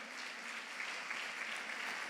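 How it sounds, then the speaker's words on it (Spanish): Steady applause from a church congregation during a Spanish-language sermon, an even wash of many hands clapping at a fairly faint, distant level for about two seconds, with no voices over it. "¿Cuántos dan un aplauso a Jesús por ese poder sanador?"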